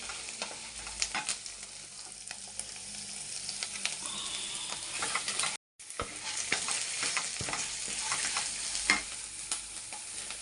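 Dried red chillies frying in oil in a pan for tomato chutney, a steady close crackling sizzle with scattered pops and stirring, broken by one brief silent gap midway.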